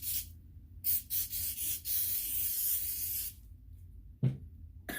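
Lysol disinfectant sprays onto a surface in several short hissing bursts followed by one long sustained spray close to the microphone, then a soft knock near the end.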